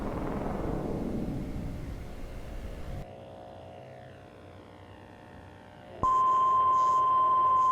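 Message notification beeps in the Evaluation video game, a sudden clear electronic tone cutting in after a quieter stretch and holding loud and steady, with a faint hum beneath.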